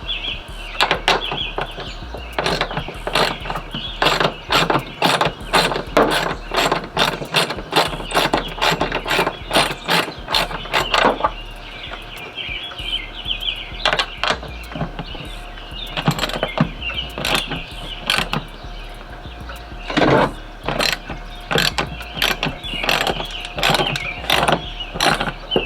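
A ratchet turning a 10 mm bolt on a Cutlass during tail light work, rapid bursts of close, sharp clicking in repeated runs with short pauses between them and no talking.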